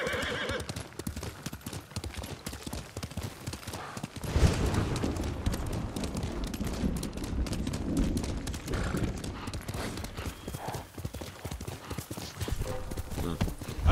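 Horse galloping in the game Ghost of Tsushima, with rapid hoofbeats and a whinny against battle noise, loud and close. A voice briefly calls out over it.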